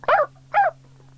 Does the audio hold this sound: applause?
no